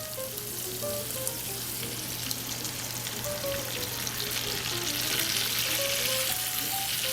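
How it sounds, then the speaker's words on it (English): Oysters Bienville mixture sautéing in a pan with a splash of white wine, a continuous close crackling sizzle with scattered pops, steady and unbroken with no talk. "So we saute this nicely through, then we add a little bit of white wine."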